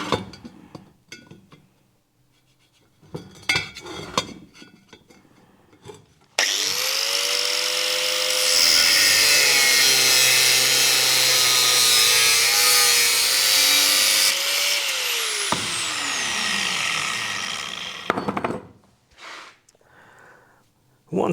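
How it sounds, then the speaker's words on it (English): A power grinder works a small piece of pipe in a workshop, giving a loud, sustained harsh grinding roar for about twelve seconds that slowly winds down, preceded by faint clicks and handling noises. "I'm just gonna need to grind this down a little bit"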